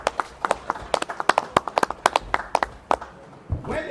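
Sparse clapping from a small audience at the inauguration ceremony of a sports industry working group in Nigeria: a loose, uneven run of distinct, close hand claps that thins out, followed by a brief murmur at the end.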